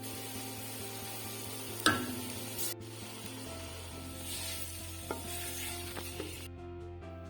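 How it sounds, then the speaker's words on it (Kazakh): Minced meat and chopped onions frying in a pan with salt and black pepper, a quiet steady sizzle under intermittent scrapes and clacks of stirring, one sharp knock near the start. "Ет қуырылып болған соң, үстіне туралған пияздарды салып қуыруды жалғастырамыз"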